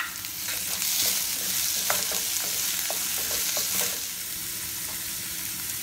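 Potato mash and vegetables sauté in a frying pan for a vegetable bread roll filling, a steady close sizzle with the scrape and clack of a spoon stirring at a loose rhythm, no voices.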